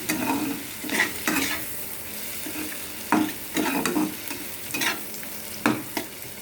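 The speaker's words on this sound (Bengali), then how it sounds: "দিয়ে ভালো করে এখানে ভাজা করব একটু, যতক্ষণ না আলুটা সিদ্ধ হয়" Potatoes are stir-fried in a pan with spice powder. A spatula scrapes and turns them in repeated bursts every second or so over a soft, continuous sizzle, close up, with no talking.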